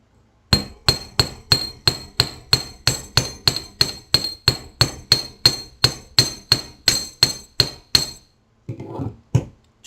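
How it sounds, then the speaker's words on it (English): A small hammer taps a curved wire earring piece for texture, about twenty light, evenly spaced metallic strikes in a quick steady rhythm, close and crisp, then a brief pause and a few final taps. "get positioned so that you can hammer this little curve here"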